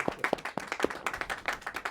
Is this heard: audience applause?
yes